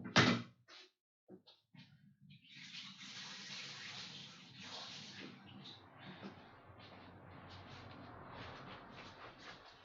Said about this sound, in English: Just going to rinse everything out.